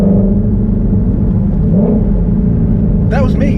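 A Shelby GT350 engine runs at about 3,000 RPM in track mode, a loud, steady low rumble heard from inside the car, with a brief voice near the end.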